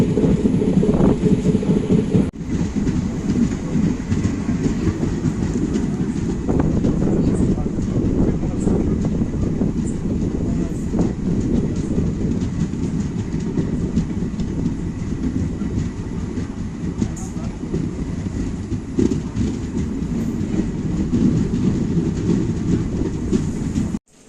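Salem Express train 22154 rolling along the rails, a loud continuous rumble with rhythmic clickety-clack from the wheels, heard from on board for the whole stretch.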